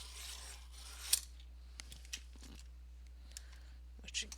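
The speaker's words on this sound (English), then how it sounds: "I think I need to sharpen this one." A Mitsubishi Uni coloured pencil with a thick core is sharpened, producing faint soft rasping and scraping with a few small clicks and taps, close and quiet over a low hum.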